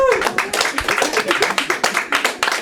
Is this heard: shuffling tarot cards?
no